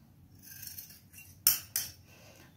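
Scissors snip through fabric while cutting the back part of a school uniform frock, with two sharp close cuts standing out over faint rustling.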